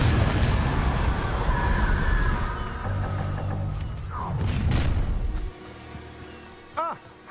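Confringo fire spell exploding in Hogwarts Legacy combat, a loud roaring blast and crackling rumble that dominates, fading out with a few smaller magical chirps.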